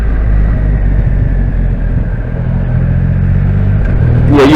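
Triumph Rocket 3R motorcycle engine rumbling steadily at low speed while the rider kicks down a gear, a loud close drone that rises into a brief rev at the end.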